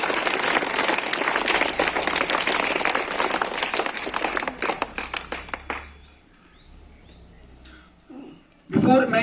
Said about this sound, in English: So give a big clap for your teachers again.